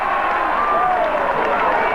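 Norwood Australian football supporters at a 1989 league match against North Adelaide roar in a steady, dense wall of crowd noise, with a whistle-like tone gliding across it and commentary-like voices faintly mixed in.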